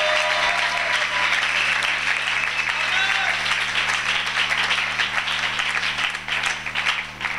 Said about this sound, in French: Donnez une acclamation, mes amis